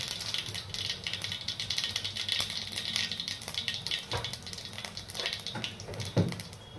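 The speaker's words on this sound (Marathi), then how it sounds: "मोहरीचा छान तडतडण्याचा आवाज आलेला आहेच तुम्हाला" Hot oil sizzles steadily as mustard seeds and cumin pop and crackle in quick, irregular bursts, close up and fairly quiet.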